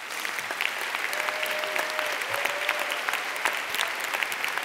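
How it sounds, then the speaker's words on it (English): Audience applause at a 2015 high school graduation ceremony, sustained clapping from a large crowd, steady and fairly loud, with a faint tone passing briefly underneath and no speech. "please join me in giving them a round of applause"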